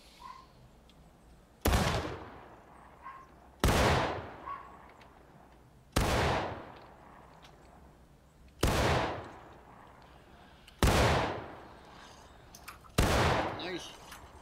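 Six synchronized musket volleys from a line of Civil War-era infantry during a company drill in War of Rights, each a loud, sharp crack with a rolling decay, spaced roughly two seconds apart, with faint voices between.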